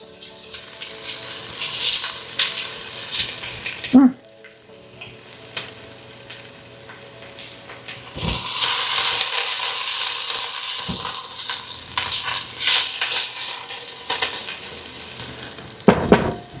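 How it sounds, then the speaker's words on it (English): Steady sizzling of onions frying in a pan, with occasional stirring scrapes and clinks of a utensil against the pan; no talking. "It's going to be so much better than just dropping the onion without frying it."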